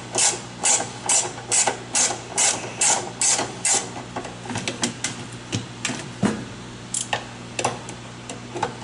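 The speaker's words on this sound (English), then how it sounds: "Other times you may need to actually use the ratchet." Hand ratchet loosening the agitator piece on a top-load washing machine: a steady run of loud, clicking ratchet strokes at a regular rhythm, then slower, irregular clicks and knocks, with no talking.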